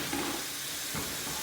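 Ground beef sizzling and frying steadily in a pan for homemade chili beans, with a close scrape or two of a utensil breaking and stirring the meat under the continuous crackling hiss.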